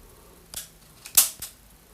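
A Stoeger XM1 air rifle fitted with a Hawke Vantage 3-9x40 scope is cocked, giving a few sharp mechanical clicks and one louder metallic snap, close and isolated against a quiet background.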